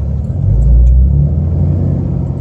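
A vehicle driving with a Southbend dual disc clutch engaged, its engine giving a loud, close, steady low rumble that swells slightly and then holds even.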